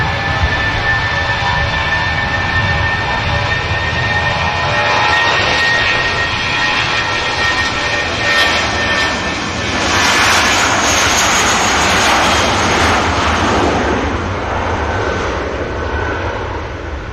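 Airbus A320 of Avion Express Malta at Manchester Airport, bound for Stuttgart, with its jet engines roaring loud and steady through the takeoff roll and rotation, the sound swelling slightly partway through and holding near the runway.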